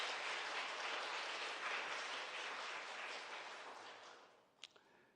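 A church congregation breaks into sustained applause during a Sunday morning worship service, broad dense clapping that fades toward the end, followed by a couple of sharp knocks.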